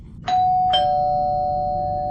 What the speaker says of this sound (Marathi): दारावरची बेल वाजवली.